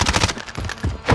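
M4 rifle firing in a first-person shooter, a quick burst of four or five sharp close shots in a little over a second.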